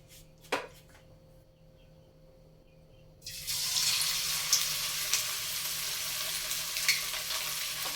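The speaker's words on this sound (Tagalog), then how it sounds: "Magprito muna tayo ng isda." Fish dropped into hot oil sets off a sudden loud, steady sizzle after a few quiet seconds and a single clunk, then keeps hissing evenly up close.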